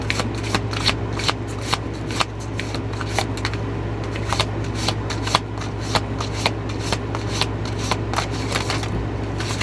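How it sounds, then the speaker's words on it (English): Tarot cards are shuffled continuously and close up, with quick crisp riffles repeating over a steady low hum. "Let me give it a shuffle, okay?"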